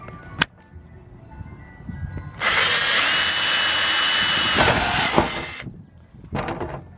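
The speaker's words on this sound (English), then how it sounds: "start by drilling a hole as big as your saw blade" A repaired cordless drill driver, set to high speed, bores a hole sized to a saw blade, whirring loudly and steadily for about three seconds after a few faint knocks, then stopping, with brief handling clatter at the end.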